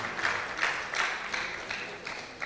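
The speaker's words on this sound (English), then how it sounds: "A round of applause for him," Applause rises and fades in waves from an audience at an electoral reforms summit as a panelist is called to the high table, somewhat distant and fairly quiet.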